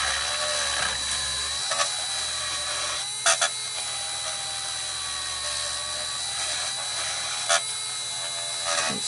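A small rotary tool with a burr grinds away MDF from a Roberts R25 radio case, a steady high-pitched whine with brief sharper bursts as the burr bites.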